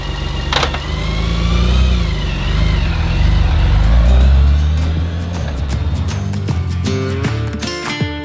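A motorcycle ridden on the open road in Utah drones loud and close, its engine pitch swelling and dipping through the ride before shifting near the end, with no talking.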